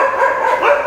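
Dogs in a village bark at a passer-by, giving a short, loud, nearby yelping bark that lasts under a second with no voices.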